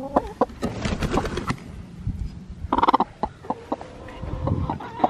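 Broody hen clucking and squawking, with repeated short calls and harsh bursts close by, some overlapping and louder around the middle, amid other farmyard fowl.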